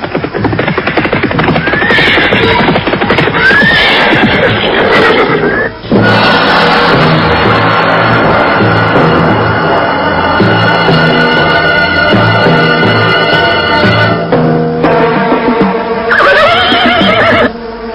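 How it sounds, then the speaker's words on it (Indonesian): Horses neigh repeatedly and loudly as mounted riders arrive in a dramatized period story. Several whinnies rise over a dense, continuous background of hoofbeats, movement and music-like tones that runs through the whole stretch. "Orang-orang berkuda."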